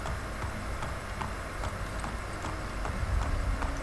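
Steady clip-clop of horse hooves at an even trotting rhythm, over a constant background rumble of ambience, from the video game Assassin's Creed Brotherhood.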